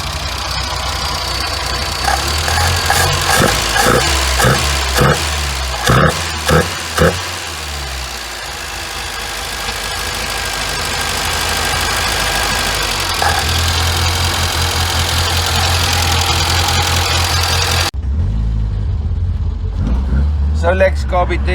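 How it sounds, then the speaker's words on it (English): Engine running on a rebuilt Solex 32 35 TDID carburetor, a steady loud idle with a few revs early on, then a continuous running drone until near the end. "Solex Carby test run."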